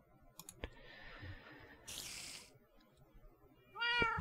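A cat in the Minecraft video game lets out a brief meow near the end, preceded by scattered clicks and a short burst of noise, all fairly quiet and with no talking.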